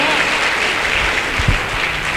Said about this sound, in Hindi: एक बार जोरदार तालियां गुरुजी के लिए,